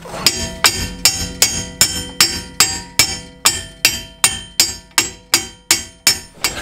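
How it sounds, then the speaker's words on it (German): A hammer pounds a car wheel hub out of its wheel bearing in a steady rhythm, about fourteen sharp ringing blows close by, each strike followed by a brief metallic ring. "dann im Prinzip mit dem Hammer das ganze Teil einfach nur raustreiben"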